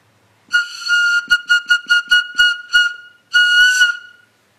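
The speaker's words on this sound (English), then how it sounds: "this comes from an eagle, from this side of the eagle wing, and it's a whistle. This is used in the sun dance." Shrill sun dance whistle made from an eagle wing bone: one long piercing blast, a rapid series of about seven short toots, then another long blast, loud and close in a quiet room.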